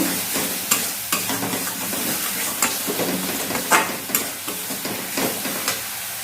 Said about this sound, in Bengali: এখন আমি এর মধ্যে দিয়ে দেবো কসুরি মেথিটা এটা দিয়ে ভালো করে এখন মিশিয়ে নেব